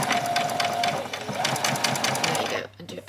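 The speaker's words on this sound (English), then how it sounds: "There you go, and do a back stitch." A sewing machine hums with rapid rhythmic stitching as it back stitches a seam on a doll's dress, close and continuous, then cuts off near the end; a voice talks over the stitching.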